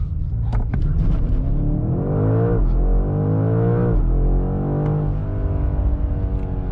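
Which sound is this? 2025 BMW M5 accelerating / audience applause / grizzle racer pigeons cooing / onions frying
2025 BMW M5 accelerating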